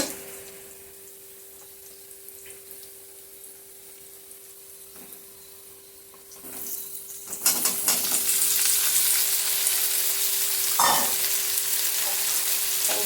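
Vegetables sizzle and crackle in a hot pan, quiet at first, then a loud burst of frying as squash goes in, with occasional stirring scrapes.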